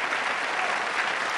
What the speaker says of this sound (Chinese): 既然大家掌声这么热烈